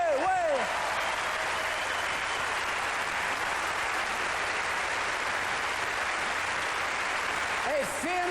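An audience at the 1997 ADISQ gala gives Céline Dion loud, sustained applause, a dense wash of clapping that fills the hall, with a voice heard briefly at the start and end.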